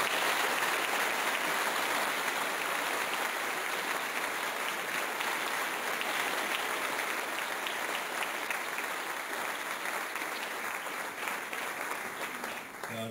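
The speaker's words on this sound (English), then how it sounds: "Let's give them a round of applause." An audience at a 2022 celebration ceremony claps steadily for the full stretch, dense and loud, tapering slightly at the end without any cheering standing out.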